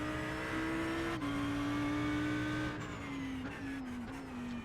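A race car engine roaring at high revs in a racing game at Daytona, a steady loud whine stepping up through gear changes as it accelerates, with faint tire noise and no talk.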